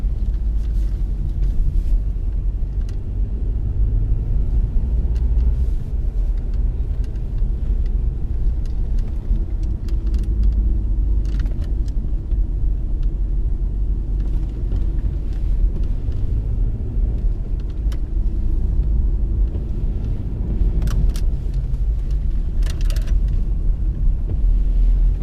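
A car drives continuously on a track course marked with cones, its low engine rumble and road noise steady and close, with occasional small knocks and no talking.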